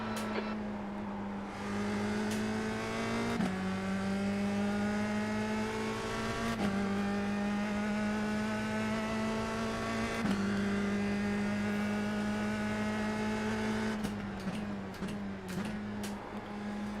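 A race car engine in the iRacing sim racing game drones steadily, its pitch stepping up and dropping sharply at several gear shifts, a continuous synthetic engine tone at moderate level.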